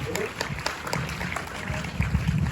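An audience at a tribute evening applauds in a dense, steady patter of clapping that lasts throughout, moderately loud, with a voice faintly audible underneath.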